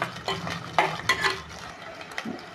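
Small onions sizzle softly in a pan for a village-style pigeon pea curry while a spoon stirs and scrapes, with a few clinks against the metal, close by and without talk.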